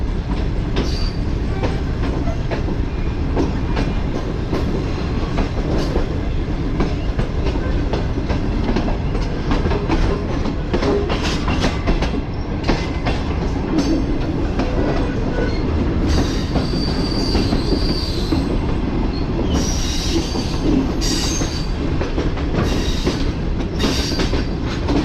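The Tezgam passenger train runs loudly and continuously, steady rumbling with rail clatter and high wheel squeals rising toward the end, heard from on board in business class.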